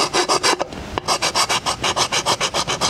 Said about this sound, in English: I'm just going to take off this paint with this file